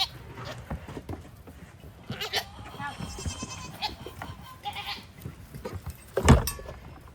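Mother and baby goats bleat repeatedly at close range during a pen rearrangement, thin high calls rising over scattered shuffling and farmyard movement, with one loud burst near the end.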